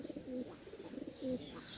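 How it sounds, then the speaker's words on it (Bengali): Pet pigeons on a rooftop coo softly and near, two low throaty calls spaced about a second apart, with no voices. "আর এই যে আমার কবুতর, আয় আয় আয় আয় আয়।"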